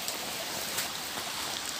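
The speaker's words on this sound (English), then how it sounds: "It's absolutely tipping it down." Heavy rain pours down steadily beside a running creek at a wild hammock base camp, a dense, unbroken hiss of water close by with no voices.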